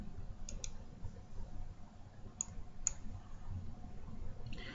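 A computer mouse clicks an export button: two quick clicks, a pause, then two more sharp isolated clicks over a faint steady room hum, with no talking.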